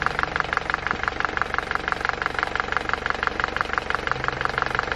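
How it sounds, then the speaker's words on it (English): A VW Golf R MK7 with a broken spool valve idles steadily after warming up, a close, even mechanical drone with a fast regular pulsing rhythm and no voices. "I'm gonna let it idle for a bit"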